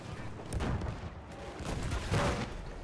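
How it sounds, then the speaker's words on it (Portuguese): Cannon fire and heavy battle noise in the Battlefield 1 video game, a dense, continuous roar of booming blasts and rumbling explosions layered over one another, loud and close throughout. "Canhão, dá uma canhãozada nele"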